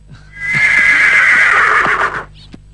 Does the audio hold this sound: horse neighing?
yes